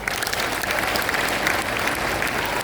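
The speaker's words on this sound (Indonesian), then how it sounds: "Ayo, tepuk tangan." Audience applause during a speech at a gathering, dense crowd clapping filling the whole moment evenly, loud and close without talk.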